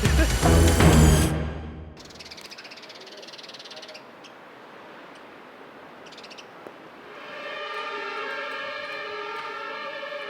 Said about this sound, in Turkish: Her gün şu siren.